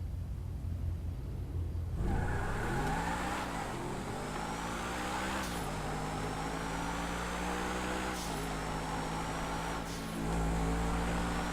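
Two supercars, the Adder and the Vodka, race in GTA V. Engines rev and roar continuously, with rising gear-shift sweeps and a steady whine. The sound stays loud and close and carries no talk.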